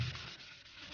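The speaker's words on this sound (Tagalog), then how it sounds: "Wet sanding natin." Steady wet, gritty rasping of sandpaper wet-sanding a Yamaha TFX 150 motorcycle part before spray painting, continuous and close for the whole second with no voices.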